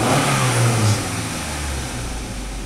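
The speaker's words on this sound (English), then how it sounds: "Accelerate engine, wide open throttle." A car engine revs hard at wide open throttle, a loud, continuous mid-pitched roar that swells early and then holds steady, close to the microphone with no talking.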